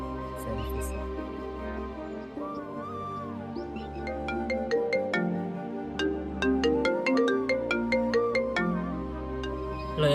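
Phone ringtone plays steadily during an outgoing call, a repeating melodic tone pattern with bright chiming notes, alone and fairly close.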